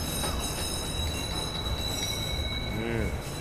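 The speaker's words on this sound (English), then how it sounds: "Southbound train arriving shortly." A subway train rolls into a station in the video game Watch Dogs, its steady rumble of wheels on rails joined by a brief squeal of braking wheels near the end, with faint background voices.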